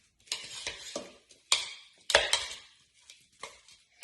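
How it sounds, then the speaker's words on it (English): A spoon stirs fruit coated with flour in a bowl, giving a series of distinct scraping and clinking strokes with short pauses between them, close and clear with no talk. "Take a spoon and stir it up."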